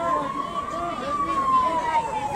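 A police car siren in Vilnius sends out a steady, slowly sliding wail against a busy street background.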